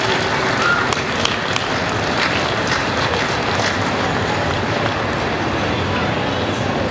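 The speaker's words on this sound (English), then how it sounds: "Big round of applause for Taki" Audience applause for a costume contest entrant at a gaming convention, a steady loud wash of clapping from a crowd that holds evenly for several seconds.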